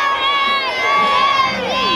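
A crowd cheers at the London New Year's Day parade, a loud, close mix of excited shouts and high-pitched whoops rising and falling, with voices calling out throughout.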